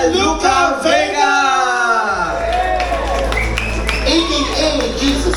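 Loud crowd screaming and cheering at a Pride night event, a dense wash of voices with shrieks and whoops rising and swelling throughout, close and continuous.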